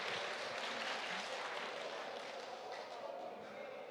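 An audience claps at a real estate investment seminar at the 2021 Money Show. The applause is dense and steady and fills the whole stretch at an even, moderately loud level.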